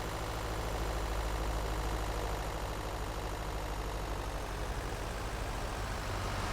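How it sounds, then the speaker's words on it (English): A simulated truck engine idles in TruckersMP, a steady, low, faint hum with no change in rhythm and no voices. "You can still hear the engine."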